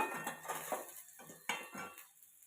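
Light metallic clinks and scrapes of a spoon against a pan as pickle spices go into oil: fenugreek powder, turmeric and Kashmiri chilli powder. A few soft, separate taps, quiet and close.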